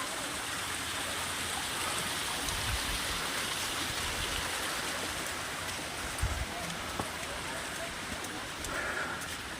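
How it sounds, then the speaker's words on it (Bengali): Water rushes continuously down rocks beside a slippery mountain path, a dense steady splashing stream with a few soft thumps and faint footsteps. "এই যে জল নামছে"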